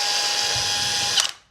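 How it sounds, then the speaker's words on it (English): A power drill runs a tiny 4mm bit into a stud wall to find a truss, giving a steady, close whine that holds for over a second and then spins down and cuts off. "4mm drill bit."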